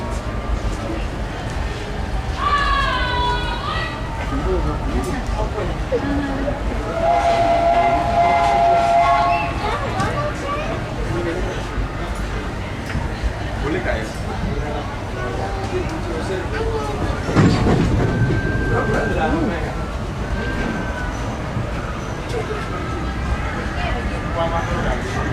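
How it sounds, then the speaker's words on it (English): The Disneyland Railroad steam train rumbles steadily along, a brief tonal whistle-like call sounding early on over the continuous clatter, while people chatter and an announcer-style voice talks throughout the ride. "Thanks for joining us on the Disneyland Railroad."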